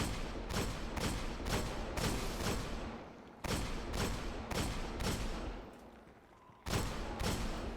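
Rapid bursts of gunfire in the video game Destiny, loud repeated volleys of shots in tight clusters with short pauses between them.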